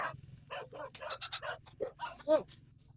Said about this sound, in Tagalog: May dayo pong aso kasi eh.